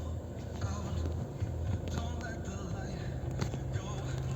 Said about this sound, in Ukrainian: Щоб нам почути, як правильно працює двигун.